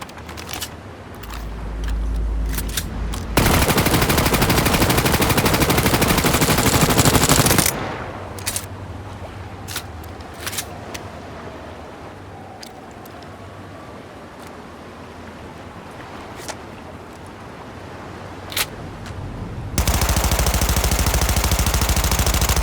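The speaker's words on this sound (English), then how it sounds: "we're going to take a look at the animations and the sound design of these two new weapons" Automatic gunfire from the Umbra and Guillotine weapons in Cyberpunk 2077, with long loud sustained bursts and scattered single shots and mechanical clicks between them.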